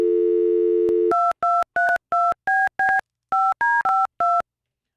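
A telephone dial tone hums for about a second, then a number is punched in as eleven quick touch-tone beeps in an uneven rhythm, close and clear with no talk.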